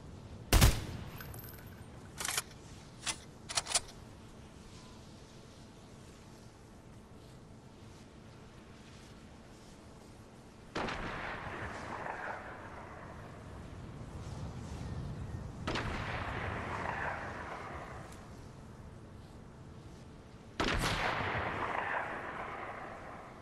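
Gunfire in the Fortnite video game: a quick string of sharp shots near the start, then three heavier bursts spaced several seconds apart over steady background game noise.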